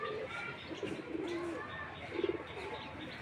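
Domestic pigeons returning home to their loft coo softly and repeatedly, with a few louder low calls near the end, over a steady background hum.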